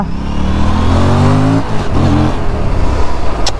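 An Aprilia RS 457 two-cylinder motorcycle accelerates hard on a road test ride, its engine note climbing in pitch through a loud, close, continuous rev before a brief dip and a further pull.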